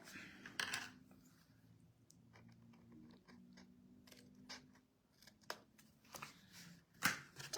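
Paper card stock for a handmade folio card being trimmed: a few faint, sharp snips and scrapes spread over a quiet background, with low hum underneath.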